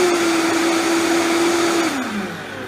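A Vitamix high-speed blender runs with a loud, steady motor whine and an airy roar. Near the end the pitch slides down as the motor changes speed.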